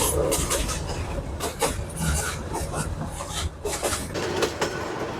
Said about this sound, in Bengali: আমাদেরকে আজকে নিয়ে যাচ্ছে ব্রহ্মপুত্র এক্সপ্রেস ট্রেন।